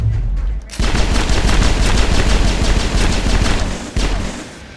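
Mass Effect gunfire bursts out suddenly after a brief lull, a loud, rapid stream of close shots that keeps going almost without a break.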